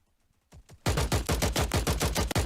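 Automatic gunfire in the Indus battle royale video game: a few faint distant shots, then loud rapid bursts of rounds in a tight, repeating rhythm, with no talking.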